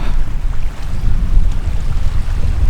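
Low, rumbling surge of small sea waves on a cold Icelandic beach, a continuous wash of surf heavily mixed with wind buffeting on the microphone, with no voices.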